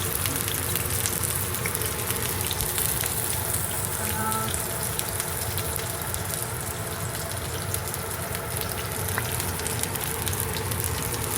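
Sliced onions sizzling in hot oil in a pan, a steady crackling hiss that runs the whole time at moderate loudness, with no talk over it.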